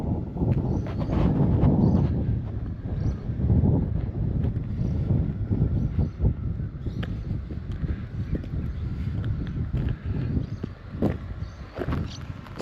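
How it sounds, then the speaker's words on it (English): Wind gusting hard across the microphone, rumbling and buffeting in uneven surges, with faint clicks and rustles underneath. "It's a bit windy this afternoon"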